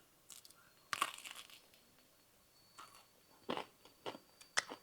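Someone bites into and chews crunchy-edged homemade sourdough pizza crust up close, several crisp, separate crunches spread across a quiet background with no talking.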